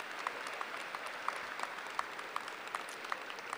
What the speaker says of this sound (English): give Squire one more round of applause for his achievements